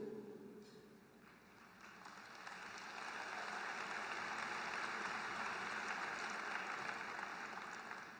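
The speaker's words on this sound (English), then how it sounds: "Indeed, they deserve every applause." Audience applause at a political speech in a large hall, steady broadband clapping that swells and then holds as a continuous, fairly distant wash.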